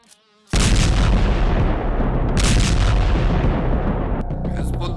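Heavy bombing explosions from an Israeli strike erupt after a brief quiet start, a sudden loud roaring blast that rumbles on continuously with a second surge midway.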